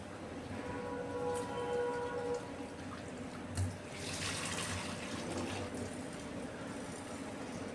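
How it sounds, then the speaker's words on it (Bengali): Red lentils being washed in water in a kitchen, a faint continuous swish and trickle with a low hum and an occasional soft clink. "2 থেকে 3 বার খুব ভালো করে মসুর ডালটাকে ধুয়ে নিচ্ছি।"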